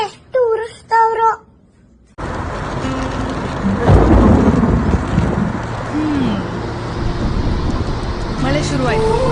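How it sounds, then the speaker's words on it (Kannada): Rain begins on a monsoon bike trip near Kaas Plateau, with a heavy roaring wash of rainfall and deep rumbles of thunder, after a moment of talk and a brief silence; a voice is heard again near the end. "ಮಳೆ ಶುರುವಾಯ್ತು"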